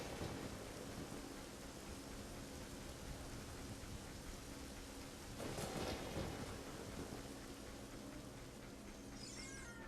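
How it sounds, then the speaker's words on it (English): Rain pours steadily in Zelda: Ocarina of Time, a constant hissing wash with a low thunder rumble rolling in partway through, heard alone without voices. "and it's raining"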